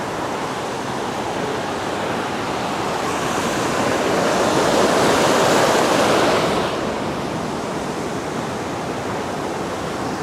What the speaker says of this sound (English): The waterfall is directly under this bridge